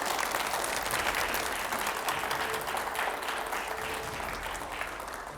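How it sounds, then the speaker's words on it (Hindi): Dense audience applause fills the room at a televised interview event, loud and continuous for several seconds, then tapering slightly toward the end. "जरा जोरदार तालियां हो जाएं।"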